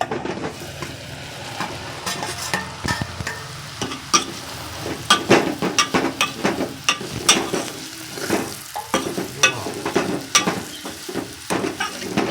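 Leftover millet flatbread sizzles in hot oil spiced with mustard seeds, chili and turmeric, while a utensil stirs and scrapes the pan in steady clinking strokes, close and continuous with no talking.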